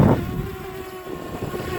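A DJI Mavic Air drone fights to hold its position in 20 mph wind with 25 mph gusts, its propellers giving a steady insect-like buzzing whine, with a rough wind rumble at the start.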